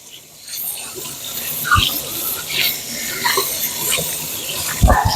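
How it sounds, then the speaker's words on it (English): Scalding hot water runs from a tap into a kitchen sink as hands are rinsed, a steady close splashing stream with brief thumps and small clatters. "And I am using literally scalding hot water to rinse my hands off."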